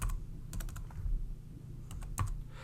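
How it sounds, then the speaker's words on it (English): Typing code on a computer keyboard, a few short bursts of quick, close key clicks separated by brief pauses over a low background hum. "I'm just going to type button."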